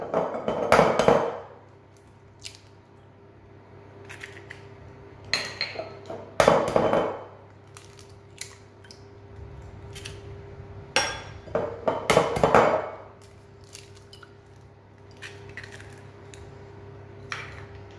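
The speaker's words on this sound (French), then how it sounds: "Alors pendant ce temps, on va casser nos œufs." Eggs are cracked for brownie batter in a home kitchen, with three sharp knocks against a bowl spaced several seconds apart and quiet in between.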